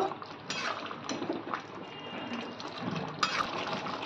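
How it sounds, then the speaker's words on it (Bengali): A spoon mixes ghee and kasuri methi into chicken in a cooking pan, giving soft scraping and a few light metallic clinks against the pan, close and steady. "ভালো করে মিক্স করে দেব"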